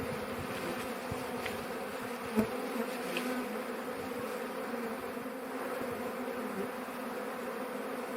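A honey bee swarm hums steadily at an apiary in late summer, a dense, continuous buzz of many insects close by with a few louder passes near the listener.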